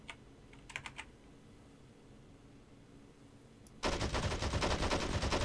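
A Type 99 machine gun fires in the video game Men of War: Assault Squad 2. A few faint clicks come over near silence, then a sudden loud, sustained burst of rapid fire runs to the end.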